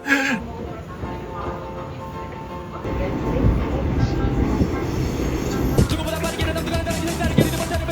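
A train at Seoul Station rumbles and clatters through a busy platform, with rising wheel and track noise and a high steady whine over it; people talk faintly in the background.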